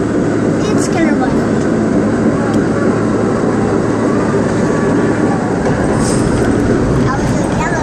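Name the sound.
R32 subway train running on the J line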